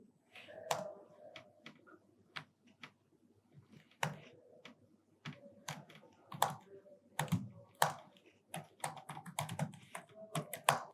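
Quiet computer keyboard typing, irregular bursts of soft clicks and taps close by, with short pauses between runs of keystrokes.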